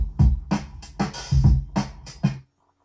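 Hip-hop drum break with punchy kicks and snares in a loose repeating groove, close and dry, ending abruptly into silence after a couple of seconds.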